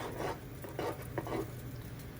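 A spoon scrapes and stirs through a pot of boiling homemade carp and catfish bait in several slow strokes, under a steady simmering hiss.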